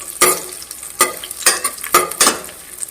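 Cashew nuts frying in a pan, with crackling sizzle and rhythmic scraping stirs about every half second, loud and close with no voices.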